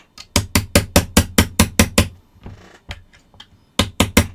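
Hammer driving a punch into the bayonet lug pin of a Mauser K98k rifle, a rapid even series of sharp metallic taps, close and loud, pausing briefly before a few more strikes, no talk.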